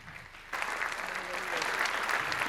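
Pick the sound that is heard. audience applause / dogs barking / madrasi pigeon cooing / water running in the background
audience applause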